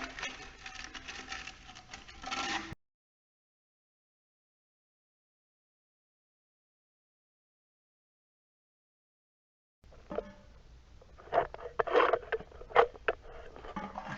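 Rough sandpaper worked by hand over rusted muffler pipes from a John Deere L130 lawn tractor, a scratchy rasping with uneven strokes, brief at the start, then after a long silent gap returning busier with sharper scrapes.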